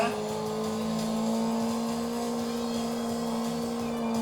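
A car accelerates in a racing video game played with a USB steering wheel on Android TV, a steady synthetic engine whine holding a high tone, moderately loud with no speech.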